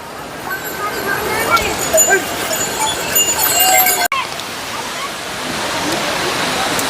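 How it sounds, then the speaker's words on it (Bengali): A small waterfall beside the Kedarnath trek roars as a broad, steady rush of falling water, close and continuous, with faint voices in the background. "এই এখন আমরা ঝর্ণার কাছে চলে এসেছি।"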